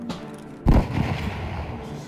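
Gunfire in the video game Escape from Tarkov during an ambush: a single sharp, loud report with a rumbling tail, over a low background.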